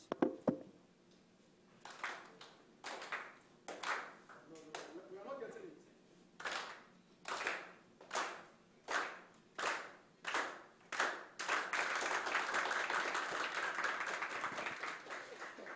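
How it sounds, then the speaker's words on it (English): Locomotive clapping by an audience at a dairy company event: separate group claps that start slow and spaced, come steadily faster in a building rhythm, then burst into continuous applause, with a voice speaking near the start. "We are going to do this locomotive clapping."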